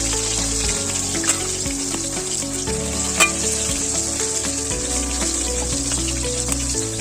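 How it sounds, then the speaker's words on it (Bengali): Potatoes and drumstick stems fry in oil in a pan, producing a loud, continuous close-up sizzle with a few sharp crackles and pops along the way. "আলু আর ডাঁটাটা ভালোভাবে ভাজা হয়ে গেছে।"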